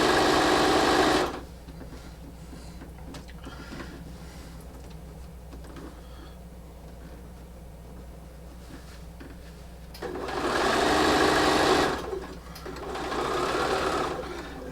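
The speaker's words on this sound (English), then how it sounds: "I'm going to come down to my 1/4 inch seam allowance and then do a little bit of a back stitch." A sewing machine stitches a quarter-inch seam on an appliqué piece, running in two loud bursts at the start and near the end with quiet background in between, finishing with a short back stitch.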